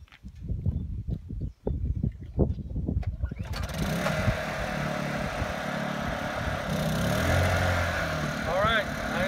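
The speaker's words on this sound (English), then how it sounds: "Let me fire up the generator and make sure the pump's on" A generator powering a pump and hose reel for a burrow blocker kicks on partway through and settles into a loud, steady engine drone, following brief talk and handling noises.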